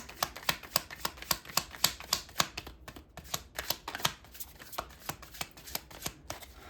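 Tarot cards riffle and snap in quick, repeated bursts during a shuffle, a close, crisp run of flutters that pauses briefly midway and then resumes, with no talking.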